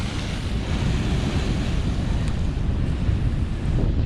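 Ocean waves crash and spray on rocks in a continuous loud roar, with heavy wind buffeting the microphone throughout.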